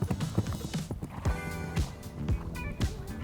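A horse canters over show jumps on a show jumping course, its hoofbeats thudding in a quick repeated rhythm close by, with a brief whinny-like tone mixed in and no speech.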